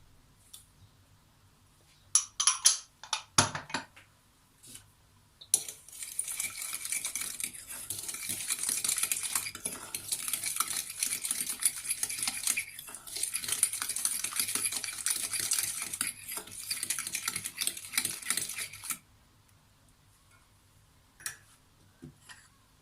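Sugar and eggs are whisked by hand in a bowl, with a steady, fast clatter of the whisk against the bowl lasting about thirteen seconds, preceded and followed by a few scattered clinks.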